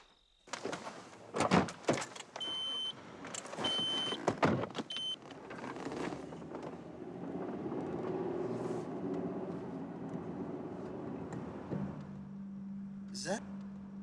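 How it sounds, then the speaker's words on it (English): A car drives past, its engine and tyre noise swelling and then fading after a few sharp clicks and knocks nearby, with a low hum left at the end. "Is that Rachel's car?"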